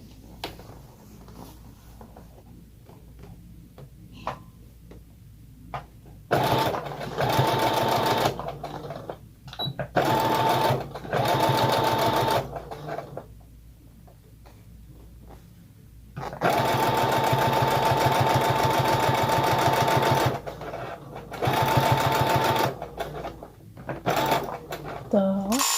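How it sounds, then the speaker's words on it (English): A sewing machine stitching old stretchy jeans, running in several rapid mechanical bursts of varying length separated by pauses with faint clicks and handling sounds. "Bring this top part forward. And then sew it."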